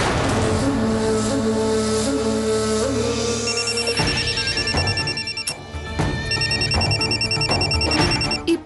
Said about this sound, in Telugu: ఈ ఈడియట్ కిరణ్ ఈ టైంలో ఎందుకు ఫోన్ చేస్తున్నాడు?